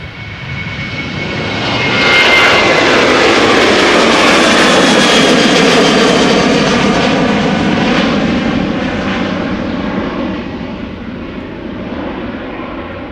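A jet airliner takes off from Amsterdam Schiphol Airport, its engine roar building over the first two seconds to a loud, sustained, broadband thunder close by that holds steady and only slowly eases toward the end.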